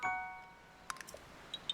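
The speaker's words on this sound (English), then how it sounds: "You know, the little wind chimes." Little wind chimes in Zelda: Tears of the Kingdom, rung in Kakariko village after rain: a soft sustained tone fades, followed by several light, faint, scattered tinkling strikes.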